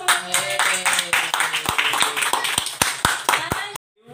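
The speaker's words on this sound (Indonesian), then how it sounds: "Bisa tepuk tangan dulu semuanya." A group in a church youth setting claps hands together, loud, somewhat uneven claps with a rough shared rhythm over murmured voices, ending abruptly in silence with one last clap.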